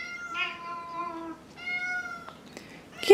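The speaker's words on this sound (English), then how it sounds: "I only have a Siamese cat" Siamese cat meowing close by, a few drawn-out, tonal meows in a row with brief pauses between them, clear and alone without talk.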